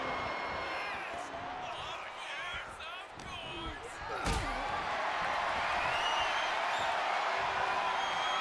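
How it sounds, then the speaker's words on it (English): A wrestling powerbomb slam in the video game WWE 2K25, a sharp heavy impact crashing down mid-clip over continuous arena crowd noise, with commentary talk running throughout. "Big powerbomb. crashing down like that, having the wind knocked out of you."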